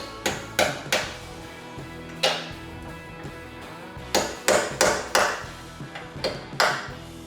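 Sharp metallic hammer blows strike out a leftover rivet in a 1970 Chevrolet C10 truck frame, about a dozen ringing hits in irregular bursts, close and loud.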